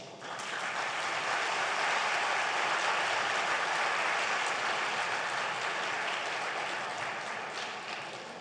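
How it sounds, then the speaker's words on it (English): A large audience at a Brahmin global meet claps in sustained applause, a thick even wash of hands that swells in quickly, holds steady for several seconds, then tapers slightly at the end with no voices over it. "Vande Mataram needs a bigger applause."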